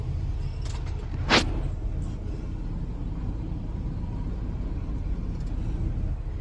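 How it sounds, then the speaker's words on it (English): Trucks pass on the far side of a gate, a steady low rumble of heavy engines and road noise, with a brief sharp hiss partway through. "About 20 trucks have passed on the other side already."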